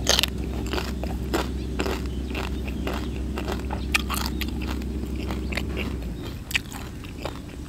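Crispy roast pork skin crunched while eating, steady close bites and chewing crunches repeating over about seven seconds, with no talk.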